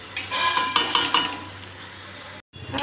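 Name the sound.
bitter gourd frying and being stirred in a pan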